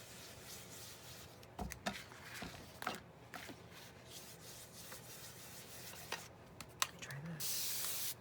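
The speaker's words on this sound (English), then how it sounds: "I sprayed everything on my desk." Liquid misted from a handheld spray bottle onto a desk covered with papers during junk journal paper crafting, heard as short airy hissing bursts with rubbing and handling noises in between, fairly quiet.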